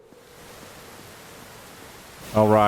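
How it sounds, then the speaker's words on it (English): Steady rain hiss from the video game Lost Odyssey fills the scene as a soft, even wash, until a louder tonal game sound cuts in near the end. "Alright, I remember the rain noise."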